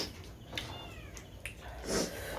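A pet cat meows indoors, several short, fairly quiet mews spaced across a couple of seconds, the last one a little louder, with no one talking.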